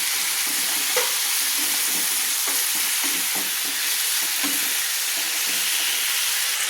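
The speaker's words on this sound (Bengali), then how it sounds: "আলু সজনে ডাঁটা আমি একসঙ্গে মশলার সঙ্গে একটু কষিয়ে নিচ্ছি" Potatoes and drumstick pods sizzle steadily as they fry with spices in a pan, with a continuous close hiss broken by repeated soft stirring scrapes throughout.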